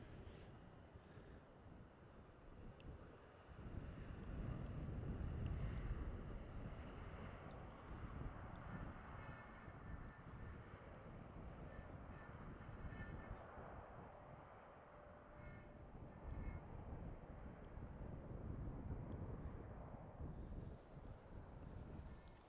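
A jet airliner landing on Schiphol's runway 18R in winter, a low broad roar rising and easing over about twenty seconds, heard from a distance with wind buffeting and no voices.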